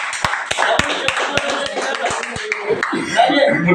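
An audience at a speech in Narendrapuram claps with loud, scattered hand claps, mixed with chuckles and voices in the crowd.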